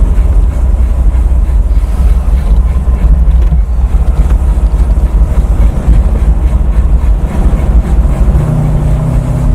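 A Mercedes 450SL engine running with some misfiring just after a fuel system install: a loud, steady low rumble close up, with rough wind buffeting on the microphone throughout.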